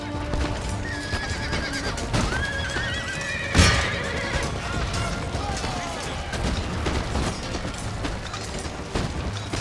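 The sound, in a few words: horses neighing in a video game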